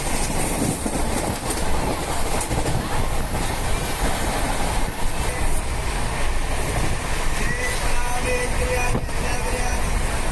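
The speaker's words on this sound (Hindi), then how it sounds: "कुछ घंटों के सफ़र के बाद आगरा स्टेशन क्रॉस करती है और ट्रेन पुनः अपनी गति से आगे बढ़ती है।" A passenger train runs at speed on rails near Agra station, with a steady, loud rumble of wheels and carriage noise, faint clatter, and occasional squeals throughout.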